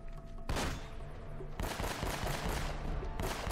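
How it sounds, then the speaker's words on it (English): Shotgun fire in a firefight in Uncharted: Drake's Fortune, three dense loud bursts of gunfire in quick succession over a continuous noisy combat backdrop, with no talking. "Okay, got hit with a shotgun, right?"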